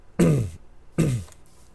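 A person clears their throat twice in close, distinct bursts, separated by a short quiet gap, with no talking.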